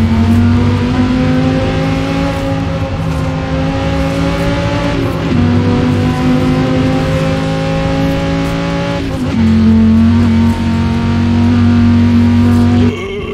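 Loud and close, the engine of a Cyberpunk 2077 car in the racing video game Forza Horizon 4 drones and accelerates continuously, its pitch stepping up twice before cutting off abruptly. No talk is heard.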